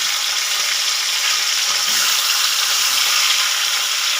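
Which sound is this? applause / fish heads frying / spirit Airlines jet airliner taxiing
fish heads frying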